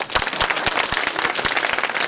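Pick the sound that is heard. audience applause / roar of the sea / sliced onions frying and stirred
audience applause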